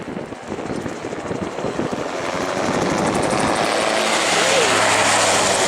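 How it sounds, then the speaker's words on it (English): Steady, loud gyroplane engine drone with rear propeller buzz and strong wind rush across the microphone, continuous throughout, at an airshow. "So the engine noise here, that's actually powering the propeller at the rear of the aircraft."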